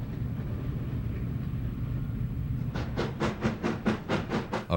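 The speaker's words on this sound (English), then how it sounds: "This is B&O Train 53, the Cincinnatian." B&O Train 53, the Cincinnatian, passes near Rossford Yard in Toledo, Ohio, with diesel units running long hood forward: a low rumble builds, then a run of evenly spaced rail-joint clicks as cars roll by close.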